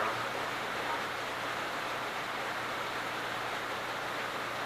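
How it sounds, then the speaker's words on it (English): Steady rain falling outside on a wet day in Pennsylvania, a constant broadband hiss with no clear breaks, fairly full and close, with a low hum underneath. "You guys can probably hear the rain in the background."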